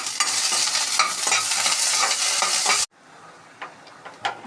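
Fenugreek seeds, a red chili and curry leaves fry in a pan with a loud, close, continuous sizzle that stops suddenly, leaving faint hiss and a few light clinks.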